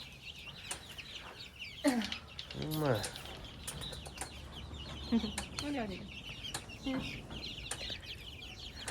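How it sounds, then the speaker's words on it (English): Chickens cluck and squawk up close amid a farmyard flock, with a few sharper calls and wing flaps breaking through, while a person talks over them. "Some of them Missouri chickens."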